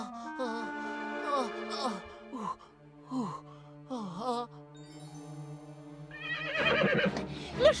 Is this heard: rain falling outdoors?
no